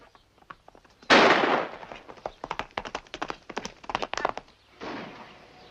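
Rifle fire in a 1956 western, a loud burst of rapid cracking shots followed by a long irregular string of sharp reports, echoing and overlapping, with a final broad blast trailing off.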